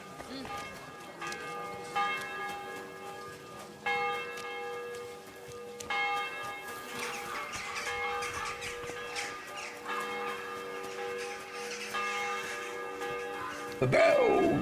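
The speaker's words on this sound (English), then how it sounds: "The bells!" Church bells ringing in Kingdom Come: Deliverance 2, repeated tolls of several bells with long ringing overtones sounding at a moderate distance, while a person talks over them.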